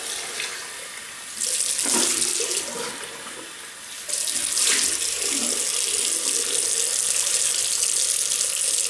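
Tap water running into a sink while a face is rinsed after shaving, a loud close splashing flow in two bursts with hand-splash surges.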